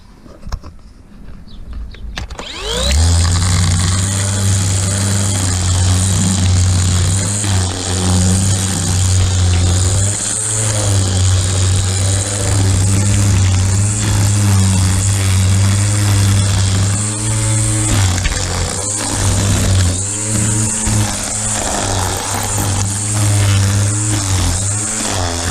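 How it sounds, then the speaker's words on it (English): After a quiet start, an electric weed whacker starts up and runs at a loud, steady motor buzz with a strong droning hum, holding near-constant speed with slight load dips. "So, pretty efficient for an electric weed whacker."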